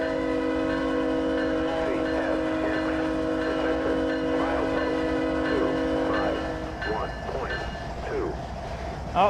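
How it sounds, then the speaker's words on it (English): In the Trainz railroad simulator, a trackside defect detector gives a synthesized spoken announcement over the steady drone of a passing train and a sustained horn tone, lasting most of the stretch before fading. "Oh, there's my newest defect detector, if you guys heard it just then."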